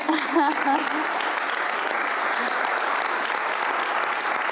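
An audience at a conference in Zaragoza gives a sustained, even round of applause, with a voice speaking over the opening second before the clapping carries on alone.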